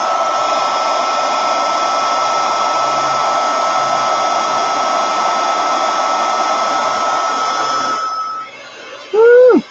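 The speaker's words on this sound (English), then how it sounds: "I'm going to hit this with my heat gun and dry those bristles" A heat gun runs steadily for about eight seconds while drying acrylic paint from brush bristles, a loud continuous blowing whir with a hum, then cuts off, leaving a brief faint bit of noise.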